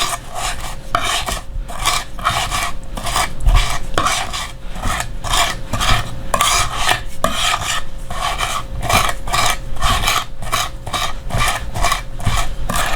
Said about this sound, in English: the salt kind of crushes the garlic, kind of works like a grinder